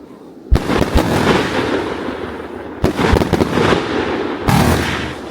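Shock WAVE 9000 firework launcher firing a long New Year's Eve barrage: three sharp launch bangs each followed by seconds of dense crackling and booming, loud and fairly near, with no talk.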